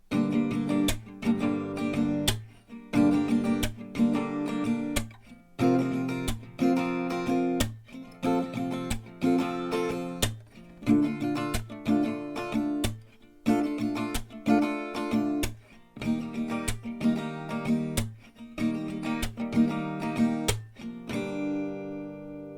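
Acoustic guitar strummed in a steady, even rhythm, full chords ringing close and clear, ending on a final strum left to fade.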